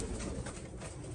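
Low, continuous cooing from a group of Iraqi pigeons housed in Europe, faint and fairly even, with a slight swell partway through against background noise and no speech.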